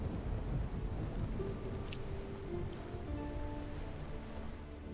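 A storm at sea while sailing in Mount and Blade II: Bannerlord's War Sails expansion: a steady roar of wind and rain with low rumbling underneath and faint tonal hints, continuous and fairly even throughout.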